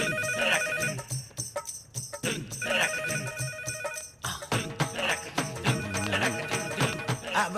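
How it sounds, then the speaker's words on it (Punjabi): A telephone rings with a repeating electronic ringtone melody, loud and close, cycling through several rings in a row without talk. "ਫੋਨ ਚੁੱਕੋ।"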